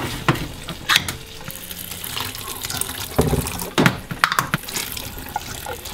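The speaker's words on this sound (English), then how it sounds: "I'm just rinsing the beans because they come in that like beanie liquid." Tap water runs steadily into a sink while beans are rinsed, with splashing and occasional clatters of a strainer, close and fairly loud.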